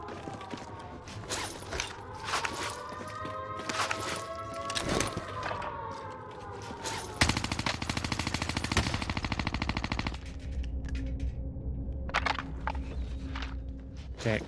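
Gunfire in Warzone on Rebirth Island, with ambient game tones and mechanical noises at first. Then a loud, rapid burst of automatic fire rattles for a few seconds, followed by quieter scattered shots.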